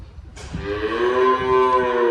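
A pregnant native-breed heifer moos in a farm barn, one long, loud, drawn-out bellow starting abruptly and holding steady close by.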